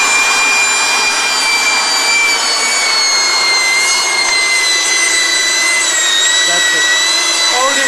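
A Shida SQ30-2B handheld pipe threading machine cuts a thread into pipe with a steady, loud, high motor whine and grinding that holds without a break, close by.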